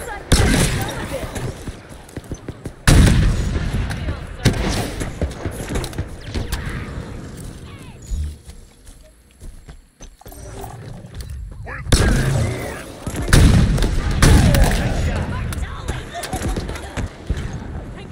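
Heavy gunfire and artillery in the Halo Infinite campaign, loud booming blasts and roaring impacts that surge, fade into a quieter stretch, then swell again.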